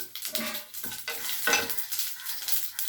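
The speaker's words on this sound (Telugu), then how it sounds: "ఆయిల్ వేడెక్కిందండి మినపప్పు ఆవాలు జీలకర్ర ఎండుమిర్చి" Urad dal, mustard seeds, cumin and dried red chillies hit hot oil and spit and crackle in close, uneven bursts, with a softer sizzle and stirring between them.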